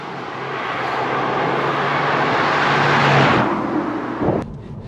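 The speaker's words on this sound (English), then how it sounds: "going along some of these forest roads, this car absolutely eats these roads" Renault Megane RS250 hot hatch driving along forest roads, a loud steady engine and road roar building gradually, then easing off near the end with a brief clunk, no talking.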